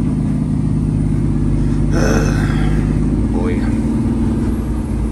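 A diesel truck idles in a truck yard while going into regeneration, giving a loud, steady low engine rumble and drone throughout, with someone briefly speaking over it.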